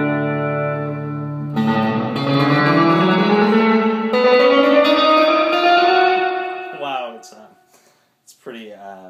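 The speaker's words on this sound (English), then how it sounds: "So let's crank up the reverb itself." Electric guitar run through a BYOC MojoVerb reverb pedal with the reverb turned up high, sustained chords swelling with a long wet wash and trailing echoes before a few quieter plucked notes near the end.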